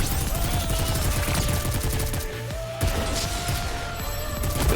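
Rapid, continuous gunfire from the video game NIKKE: Goddess of Victory, loud and dense throughout with heavy layered shots and a brief dip near the middle, and no voices heard.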